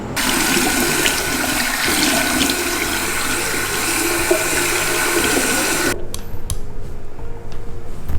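Water runs from a bathroom tap while a face mask is rinsed off, a loud steady splashing rush that cuts off abruptly near the end, leaving a few faint drips and clatters.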